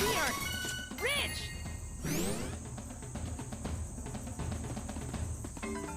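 Bee enemies swarming and attacking in the video game Trials of Mana, with chiming hit effects, rising swooshes and a steady high buzzing tone over a busy game soundtrack.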